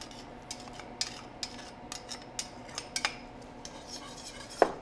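Metal spoon clinking and scraping against a pot while tomato paste is mixed into a simmering beef-based dish, a steady series of light taps and clicks with a low background bubble.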